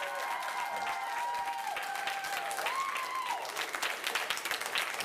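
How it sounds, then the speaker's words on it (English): An audience claps in a city council chamber in Iowa City after a unanimous vote, a steady round of applause lasting several seconds while a voice speaks over it. "I'm going to ask you to refrain from clapping."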